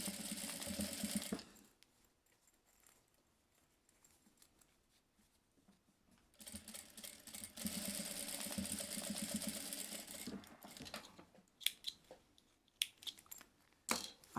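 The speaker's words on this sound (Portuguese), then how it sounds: "Viro e rebato essa costura para fazer também um acabamento." Sewing machine topstitching a seam on a fabric passport wallet: two steady runs of fast whirring stitching, close and moderately loud, separated by a quiet pause, ending in short bursts and clicks.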